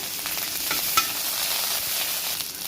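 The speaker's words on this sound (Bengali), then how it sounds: "কড়াইয়ে তেল গরম হয়ে এসেছে সামান্য একটু জিরা দেবো পেঁয়াজ বাটা একটু আদা রসুন বাটা" Onion paste, ginger-garlic paste and cumin fry in hot mustard oil in a wok, a steady close sizzle with a few soft stirring scrapes, no voices.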